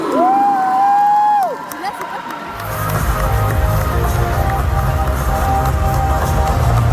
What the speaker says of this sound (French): On l'applaudit bien fort, c'est parti.